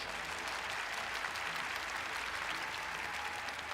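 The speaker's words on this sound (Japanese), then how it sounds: "拍手お願いします。" A crowd at the FFXIV FanFest opening ceremony claps together in steady, dense applause with no break, fairly distant and even throughout.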